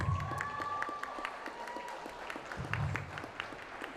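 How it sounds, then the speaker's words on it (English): A crowd at school cardboard boat races gives a round of applause for the fitness center and support staff: scattered, moderately distant clapping that swells and fades over a few seconds. "So please give them a round of applause."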